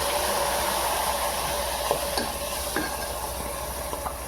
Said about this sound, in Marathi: डाळीला आपण जरा मारून घेऊ त्याच्यात तेलात